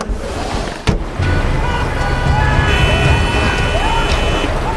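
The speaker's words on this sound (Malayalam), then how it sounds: "വെള്ളം ബിൽഡിങ്ങുകൾക്കിടയിലൂടെ ഇരമ്പി വരുന്ന" Flood water roars between buildings in a radio drama effect: a loud, continuous surging rush with deep rumble, a sharp hit near the start and faint tonal wails riding above the torrent.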